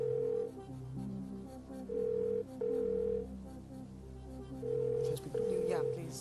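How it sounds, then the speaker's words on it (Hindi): Telephone dialing for a phone-a-friend lifeline on a television quiz show: a series of steady electronic tones in several bursts, heard clearly over soft background studio sound. "जावेद साहब को फोन प्लीज लगा दीजिए, जावेद अख्तर साहब को।"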